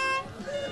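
A rally car's horn, on a slightly modified car at the start of a desert raid, gives a bright, steady tonal blast up close, then fades under crowd noise and nearby chatter.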